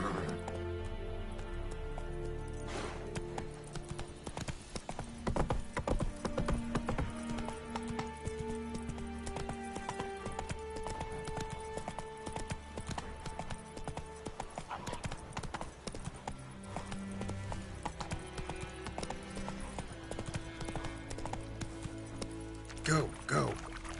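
Roach, the horse in The Witcher 3, trots with steady clip-clop hoofbeats at close range across the whole stretch, backed by game music and ambience, with someone talking now and then over the footsteps.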